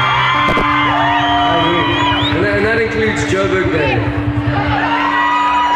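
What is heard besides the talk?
live concert crowd cheering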